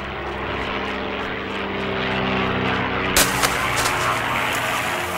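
A propeller airplane drones loudly overhead in an audio drama scene, a thick rumbling engine roar building steadily, then a sudden brighter, sharper shift as it passes close, with a few light knocks near the end.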